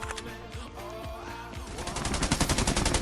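Gunfire in the BGMI mobile game on the Mumbai map: several separate shots, then rapid automatic bursts that grow louder and denser toward the end, with a faint musical background underneath.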